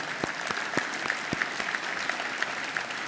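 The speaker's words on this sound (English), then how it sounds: "So now I'd like to clap for these guys because they did all the work." Scattered applause from a modest audience at an energy summit, a sparse patter of individual claps, fairly soft and even throughout.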